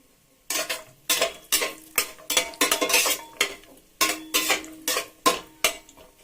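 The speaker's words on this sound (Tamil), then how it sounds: "கொஞ்சம் நெய் விட்டுக்கலாம். முந்திரி வறுத்துக்கலாம்." Cashews roasting in ghee in a pan on medium heat are stirred in a quick series of about a dozen sharp metallic scrapes and clinks, close and loud over a faint sizzle, with no voices.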